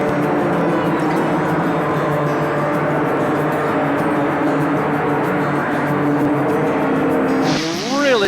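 NASCAR race cars at Bristol in 1990 roar loudly and continuously around the track in a dense, sustained engine drone, with a pass-by pitch sweep near the end and commentary voices over it.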